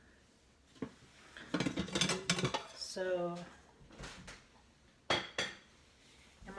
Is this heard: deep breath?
no